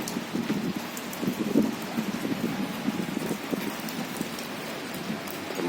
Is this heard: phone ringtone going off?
no